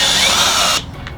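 A power drill bores through a travel trailer floor while LCI steps are being installed, a loud high-pitched whine that cuts off abruptly near the end.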